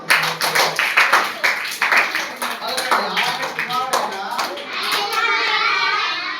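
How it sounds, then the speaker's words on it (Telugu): A group claps in a steady, rhythmic beat while a voice speaks over it; the clapping fades out after a few seconds. "క్లాప్స్ చెప్పండి అందరూ"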